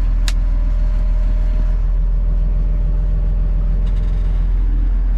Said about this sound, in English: So there's my slurry. Engage macerator.